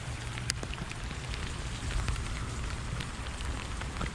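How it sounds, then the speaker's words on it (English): Steady rain patters on a surface, a constant dense hiss with occasional louder drops close by. "it's raining for the first time"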